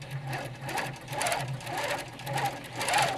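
A computerized quilting machine stitches out a star quilt pattern, its steady mechanical whirring and rhythmic needle pulses running continuously at moderate level with no talk.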